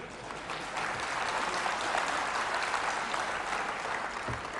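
Audience applauding at a university centenary celebration in Kanpur, a dense, even wash of clapping that holds steady and fairly loud from start to finish with no voices over it.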